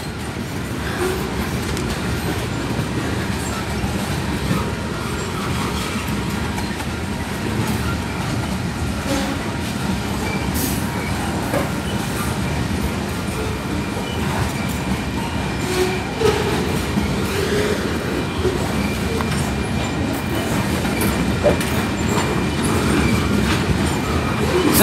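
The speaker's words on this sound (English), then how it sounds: "this train didn't come at noon." A freight train, CP 369, rumbles past at close range for a long stretch, with steady roaring wheels, rattling cars and occasional metallic clanks.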